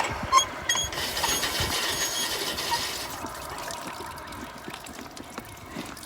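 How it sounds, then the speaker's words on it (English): Water turned on at an outdoor spigot through a garden hose on a hose reel, with a sharp mechanical turn and clicks followed by a steady hiss and trickle of flowing water close by. "Now I'm going to turn the water on to make sure it doesn't leak."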